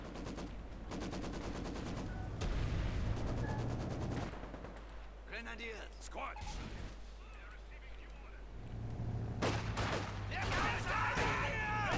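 Gunfire rattles through a Company of Heroes 2 battle between Wehrmacht and Soviet forces, with bursts of machine-gun fire and sharp shots coming in repeated clusters under an announcer's talk.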